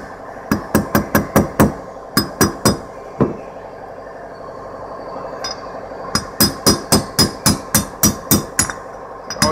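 Wheel bearing races are hammered into the front hub of a 1966 Impala, heard as sharp metallic strikes in quick bursts of several blows separated by brief pauses, close and loud with ringing clinks.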